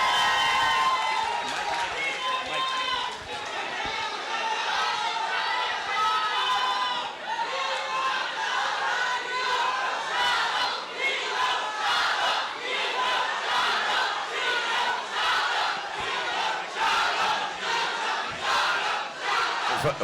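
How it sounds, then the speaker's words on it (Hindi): A large crowd of fans roars and shouts continuously at a Pathaan film success event in a packed venue, with a dense, sustained wall of cheering and whooping that never lets up, though no distinct clapping stands out. "एक बार जोरदार ताली हो जाए पीछे तक गाइस, एक बार हाथ ऊपर करके"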